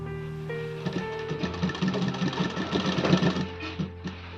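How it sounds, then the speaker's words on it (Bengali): A sewing machine stitches a kaftan nightie in a fast, steady mechanical chatter with rhythmic needle thumps, close and continuous throughout. "তো পুরোটা আমি সেলাই করে নেব"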